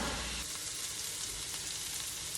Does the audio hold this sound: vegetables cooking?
yes